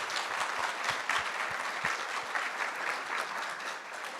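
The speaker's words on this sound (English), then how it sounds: "So round of applause for our class instructors." A graduation audience claps steadily for the class instructors at a guide dog school ceremony, a dense, continuous applause that stays fairly even and close throughout with no voices over it.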